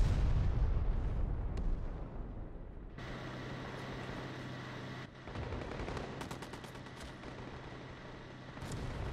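An A-10 Warthog's 30mm cannon and rockets firing in the war game Call to Arms, heavy rumbling bursts and rapid cannon fire with a droning engine, loud and continuous, no talking.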